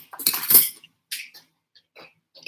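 A metal fork clinks and scrapes against a small container while mixing homemade red and yellow paint, a few quick close taps and scrapes separated by short silences.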